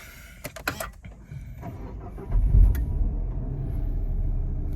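An SUV's engine is started: a few sharp clicks come first, then a low rumble swells as the engine catches and settles into a steady idle, close and with no talking.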